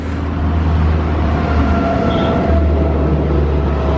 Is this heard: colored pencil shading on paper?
no